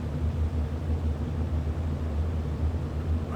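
Run-up of a turbocharged warplane engine in the IL-2 flight simulator, held on the brakes at high power before takeoff: a steady, loud, low droning rumble with no voices.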